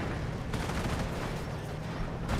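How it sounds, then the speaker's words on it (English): Artillery barrage in Company of Heroes, a steady dense rumble of distant shell impacts and bursts that runs unbroken for the whole stretch. "He has activated both barrages."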